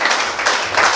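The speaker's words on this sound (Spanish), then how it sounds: "Denle un fuerte aplauso a Cristo" Congregation at a church quinceañera celebration giving a brief, loud, dense round of applause, many hands clapping together in a steady wash.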